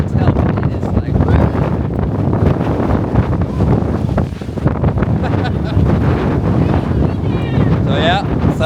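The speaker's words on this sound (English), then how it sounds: "it is really windy" Strong wind buffets the microphone in a steady, heavy roar that swells and dips throughout, with a faint high whistle near the end.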